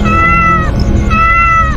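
A cat gives two loud, long, drawn-out meows close by, each rising and then falling, against a dense low background rumble.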